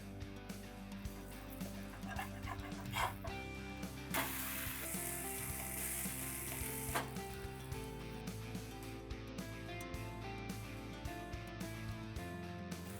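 Vegetable adai batter with shredded carrots and crushed green peas sizzles steadily in oil on a hot pan, a soft continuous frying hiss with a brief louder burst midway and occasional small pops.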